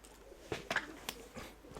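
A pigeon coos overhead outdoors, a few soft, low rounded calls spaced irregularly, faint and somewhat distant against quiet background noise.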